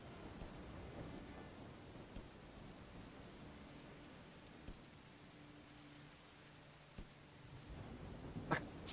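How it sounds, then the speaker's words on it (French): Thunder rolls low and distant through a steady hiss of rain during a lightning storm in the medieval survival game Bellwright, with a sharper crack near the end. "il y a des éclairs"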